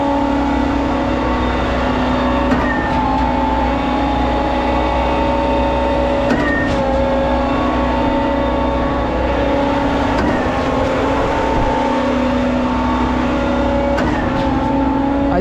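Older-style concrete pump kit running steadily while pumping concrete on a large pour, a loud continuous engine-and-hydraulic drone with a smooth, even rhythm and faint periodic clunks every few seconds, no surging.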